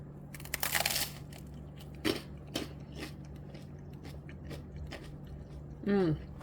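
Crisp crunching bites into toasted bruschetta, a few sharp crackles spread over several seconds, close to the mic, with a soft background hum.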